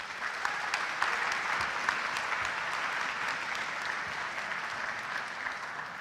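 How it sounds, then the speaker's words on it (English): An audience at a student engagement awards ceremony claps in sustained, even applause, a dense patter of many hands that holds steady for several seconds without cheering or talk. "Let's give you a round of applause."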